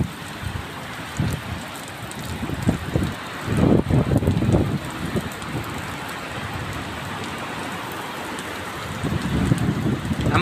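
Heavy rain from a Kalbaisakhi storm pours over a village, a steady hiss on surfaces with gusty swells and louder bursts of downpour.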